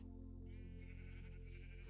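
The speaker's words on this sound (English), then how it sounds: "where are my noisy sheep?" Sheep bleating in the video game Minecraft, a single drawn-out, wavering bleat over a low steady hum, faint and close.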